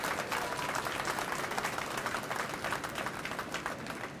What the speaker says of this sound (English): So how about a big round of applause to all of our farmers?